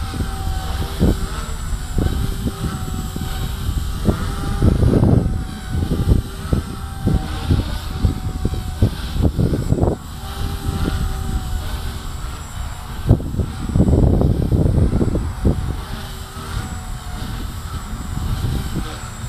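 A 180 CFX RC helicopter flies tic-toc manoeuvres as a tail boom and pin screw stress test, its motor and rotors droning steadily with rhythmic surges and dips in head speed, close by and continuous.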